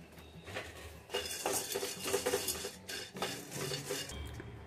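Cloves and whole spices are stirred while dry roasting in a pan for homemade garam masala, giving close scraping, rattling and clinking bursts in an irregular rhythm.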